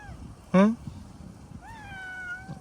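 A cat meows twice, first a short loud cry close by and then a longer, softer rising meow, with a person's voice talking in the background.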